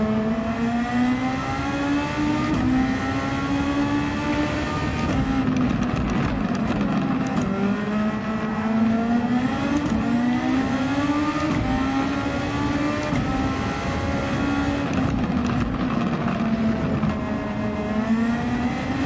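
Superformula open-wheel race car in Gran Turismo 7 at Catalunya, set up with maximum downforce, its engine wailing loud and close, pitch climbing and dropping through repeated upshifts and lifts for corners.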